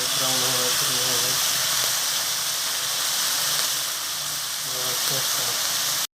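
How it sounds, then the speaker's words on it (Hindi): Onions frying in a pan for a bhindi pyaz masala, a steady broadband sizzle and hiss throughout, with a voice speaking briefly over it near the start and again near the end. "प्याज को भी आप 5 मिनट तक भूनिएगा जब तक कि इनका कलर लाइट ब्राउन ना हो जाए"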